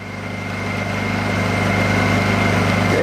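A Honda EU2000i portable inverter generator runs in eco idle inside a garage, giving a steady, close engine drone with a low hum that grows slightly louder and holds even throughout, with no talking.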